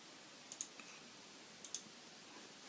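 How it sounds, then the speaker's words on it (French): Faint, close computer mouse clicks in the UDK editor: a quick double click, then after a pause another double click, over quiet room hiss. "Je clique 2 fois sur la matière pour ouvrir l'éditeur de matière."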